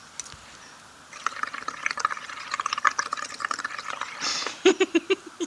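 Water overflows onto paper during a craft demonstration with Distress Oxide inks, first a soft hiss, then steady trickling and dripping that ends in a few louder, close gurgling splashes.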